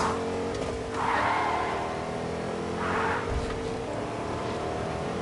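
A car drives and drifts in the Fortnite video game, its engine droning steadily with two swelling surges of skidding noise, and no talking.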